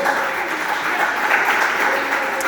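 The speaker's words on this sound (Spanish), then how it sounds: "dándole fuertes palmas al Rey de Reyes" A church congregation claps loudly and steadily, a dense sustained wash of many hands in praise of the King of Kings filling the room without pause.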